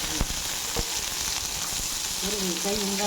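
Onion and curry leaves frying in hot tempering oil for a banana flower kootu, a steady close sizzle with a few sharp crackles and stirring clicks, and a brief tonal voice near the end.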